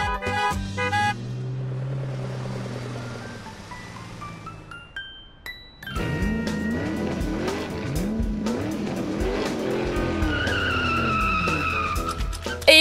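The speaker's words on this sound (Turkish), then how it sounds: "Arazi arabası kırmızı arabayı çamura buladı." Cartoon toy off-road car splashing mud onto a red car, heard as revving engine drone with skidding and sliding whooshes over bright animated sound effects and music, loud and continuous with a quieter break midway.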